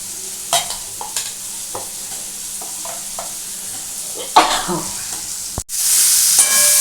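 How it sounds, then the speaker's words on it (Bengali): Spice paste and fried Chandramukhi potatoes being sautéed and stirred in a pan for mocha kofta curry, with soft spatula scrapes over a light sizzle, then a sudden loud hiss near the end as water hits the hot pan. "দেখো আমরা মশলাটা দিয়ে ভালো মতো কিন্তু কষছি।"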